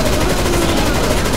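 Rapid automatic gunfire in a CS:GO zombie escape round, a loud, dense burst of shots rattling continuously through the brief moment.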